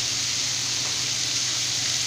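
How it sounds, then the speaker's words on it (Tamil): A tomato chutney mixture with mint sautés in a pan, a dense, even hiss of frying held close and constant through the short stretch, without voices. "உப்பு சேர்த்துட்டு நல்லா வந்து நம்ம வதக்கி விட்டுக்கலாம்"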